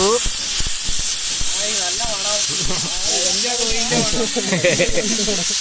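A pressure cooker whistling and hissing out steam while beef curry cooks outdoors over a wood fire, a loud continuous hiss under several overlapping voices talking and laughing nearby.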